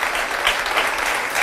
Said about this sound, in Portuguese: Um aplauso para esta menina.